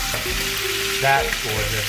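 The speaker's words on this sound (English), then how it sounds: "let it keep cooking on that skin side because it ain't ready to release yet" Chicken sears skin side down in a hot pan, a loud, continuous frying sizzle with a brief clatter in the middle, while a voice speaks a short remark over it.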